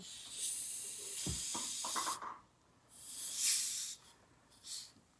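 Fizz hisses out of a shaken, half-empty soda pop bottle as the cap is loosened, coming in several soft, controlled bursts of airy hissing with quiet gaps between them, heard close up with no talk.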